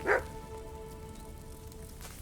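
A single short dog bark from Kingdom Come Deliverance II, close and fairly loud, followed by a quiet steady background.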